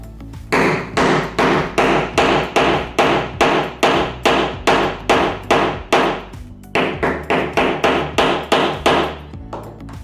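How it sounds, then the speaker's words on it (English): A metal rivet cap is hammered into leather on a workbench, about two dozen sharp, close strikes in a steady rapid rhythm with a brief pause partway through. "And nice and simply hammer that in."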